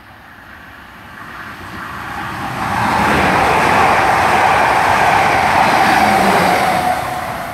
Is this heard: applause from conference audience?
no